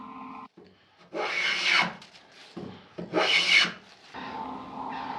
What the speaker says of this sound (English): Here I'm planing the boards together to make a good fit when I'm gluing them up together.